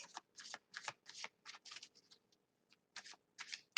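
A deck of tarot cards is shuffled quietly up close in quick riffling bursts with short pauses between them.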